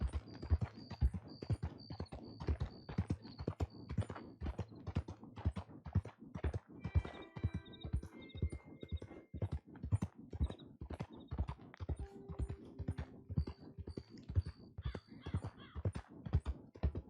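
Horse hooves clip-clop in a steady rapid rhythm throughout in the game WildRP, close and continuous, with faint crow caws and other game sounds in the background.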